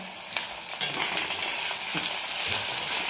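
Potatoes sizzling in a pan while cooking for sabudana khichdi, a steady close frying hiss with small crackles and soft stirring sounds throughout.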